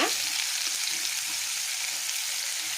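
Onion and garlic fry in coconut oil for an egg masala, giving a loud, dense, continuous sizzle that holds steady throughout.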